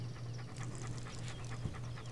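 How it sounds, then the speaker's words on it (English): A dog pants rapidly and steadily in the video game Postal 2, close and continuous breathy huffs over a low droning hum, with no talk. "Ah, stupid dog."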